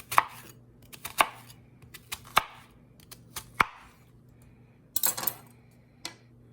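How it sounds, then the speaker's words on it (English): A knife rough-chopping red onion on a board, sharp single knocks spaced about a second apart with a quick double chop near the end, close and clear with no talk. "So now I'm going to slice up onion, just rough chop."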